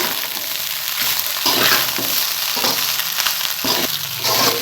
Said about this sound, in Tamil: இந்த சாதத்தை நல்லா அப்படியே பொரியிற அளவுக்கு கலருங்க.